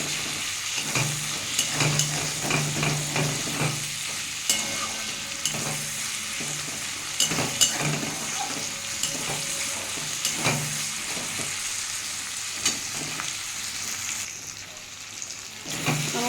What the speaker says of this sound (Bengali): এটা দিয়ে ভালো করে ভেজে নেব